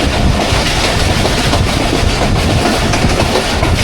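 The Jaffar Express, a passenger train, rolls through Sanjani railway station with a loud, steady rumble and rattling wheel noise, heard close from on board, with no speech.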